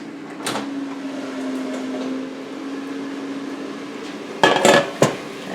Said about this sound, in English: we're going to take this out and turn the sausages over